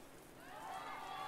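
Steady hissing rain falls in the video game Lucky Rabbit Reflex during a ball match, a soft continuous wash with a faint rising tonal sweep underneath.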